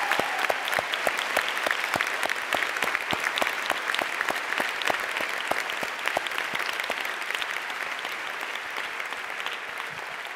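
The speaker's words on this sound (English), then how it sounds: "Let's please give them a round of applause." Sustained applause from a large audience at a high school commencement ceremony, dense clapping holding steady for about ten seconds and easing slightly toward the end.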